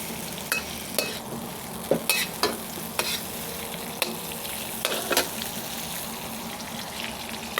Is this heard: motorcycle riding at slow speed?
no